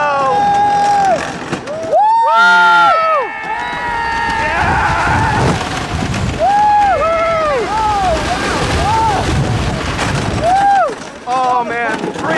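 The Comet wooden roller coaster at The Great Escape, Lake George, thunders along with a loud, rattling rumble heard from the front seat, while riders whoop, scream and shout throughout.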